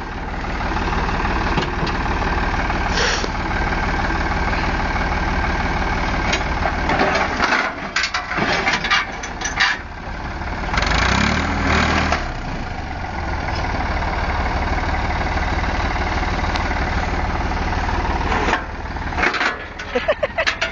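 A garden tractor engine idles steadily and close by, a continuous low rumble running throughout with brief dips and bumps, while people talk over it at times.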